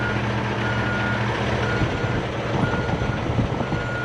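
A large truck idles and rumbles while backing up between cars at a car dealership, a steady tonal reversing alarm beeping repeatedly, with engine noise rising toward the end.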